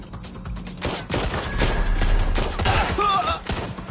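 Gunfire from Watch Dogs: Legion, a burst of rapid shots and thuds crowding together in a dense, loud exchange, with a voice calling out over the shooting.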